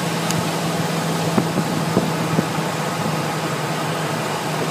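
A Ford engine with coil-on-plug ignition idles with a misfiring number five cylinder, giving a steady, hissy mechanical hum broken by a few faint irregular ticks and stumbles, heard up close with no one talking.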